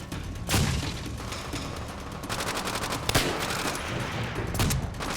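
Teammates fire in the Call of Duty: World at War campaign, producing dense, continuous bursts of automatic gunfire with sharp individual shots and booms layered throughout.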